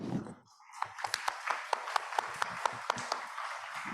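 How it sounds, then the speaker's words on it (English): Applause for conference panelists at the close of a machine learning session: a handful of sparse, separate claps starting after a brief lull, moderately close, with faint murmuring. "give them a round of applause"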